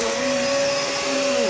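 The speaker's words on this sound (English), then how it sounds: "I can always hoover" A household vacuum cleaner runs steadily close by, a constant loud whine with a fixed tonal hum and broad airy hiss throughout, alone with no talk.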